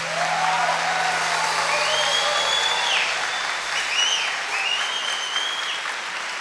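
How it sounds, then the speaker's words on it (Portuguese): Dense, steady applause from a large congregation at a Catholic gathering with a friar, loud and continuous for several seconds, with a few high whoops or whistles rising above the clapping. "Um forte aplauso ao nosso Senhor"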